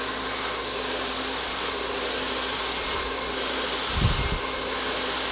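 A hair dryer blows steadily while hair is being blow-dried, a loud continuous whoosh with a brief deeper rumble near the end, close to the listener.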